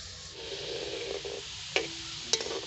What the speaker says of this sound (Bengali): তোকে এখন আমি উল্টিয়ে পাল্টিয়ে বাদামি রং করে ভেজে নেব হালকা ভেজে তুলে নিচ্ছি